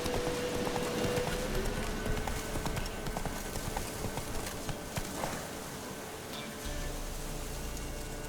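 Roach the horse galloping in The Witcher 3, a steady rapid clip-clop of hooves pounding continuously over a wash of ambient game noise, moderately loud and close throughout.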